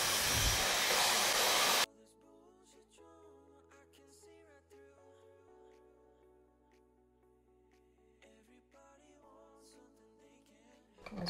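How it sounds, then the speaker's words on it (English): A hand-held hair dryer blows on long frizzy hair with a loud, steady rushing whoosh for about two seconds, then cuts off abruptly, leaving background music playing alone. "Blow drying your hair can get a little hot."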